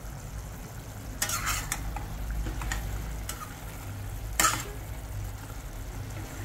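Mutton curry with cucumber simmers in a pot while a spoon stirs it, producing a few sharp scrapes and clinks over a steady low bubbling hum, with no talking.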